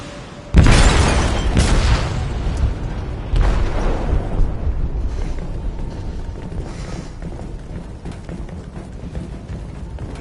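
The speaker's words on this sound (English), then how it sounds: "detonated an explosive in the hold" An explosive detonates in a ship's hold in Detroit: Become Human: a sudden loud boom, then a rumbling roar that swells again a few seconds later and slowly fades into a low, churning wash.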